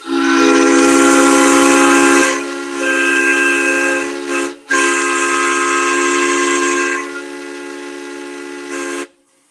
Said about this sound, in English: Blow that whistle. Blow your whistle, dude.